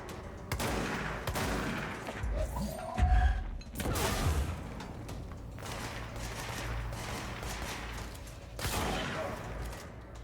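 Video game gunfire in Control comes as rapid bursts and heavy thumping shots over a constant dense background of game music and ambience, with louder impacts clustered near the middle.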